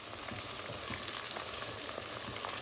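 Rice pilaf with oil is stirred in a hot pot, a steady, dense sizzle and frying hiss with soft stirring scrapes, close and continuous, with no talking.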